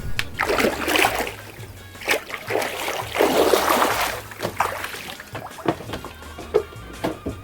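Homemade houseboat with motors setting off on the water, splashing and churning water with a low motor hum underneath, uneven bursts of splatter near the hull.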